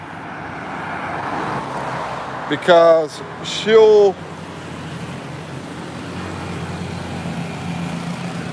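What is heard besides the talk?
motorcycles and street traffic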